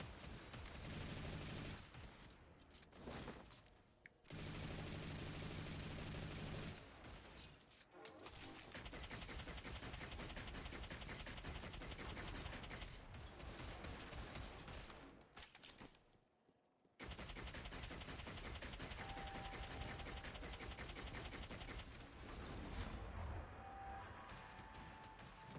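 Long sustained bursts of machine gun fire roar loud and close in the Destiny Rising shooter, with brief gaps between volleys and no talk.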